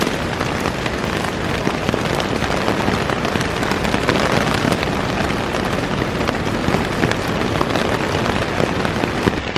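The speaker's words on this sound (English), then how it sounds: "Still raining." Heavy rain falls on a backpacking tent at Pictured Rocks National Lakeshore in fall, a dense, loud, continuous patter without pause and no voices.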